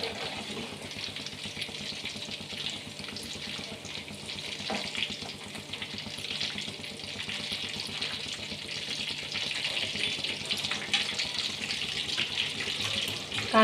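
Chicken pieces sizzle steadily in hot oil for pakodas, a continuous crackling hiss close up with occasional stirring scrapes and watery spits rising and falling throughout.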